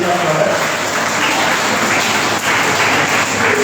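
Loud applause from a gathering welcoming a faculty head at a Garhbhoj Diwas event, a thick, continuous roar of clapping that stays strong and even from start to finish.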